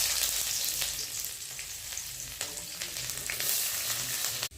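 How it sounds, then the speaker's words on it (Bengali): Onions frying in hot oil in a wok, a loud close sizzle with crackling bursts and occasional stirring scrapes, continuous throughout. "পেঁয়াজ ভেজে নেব।"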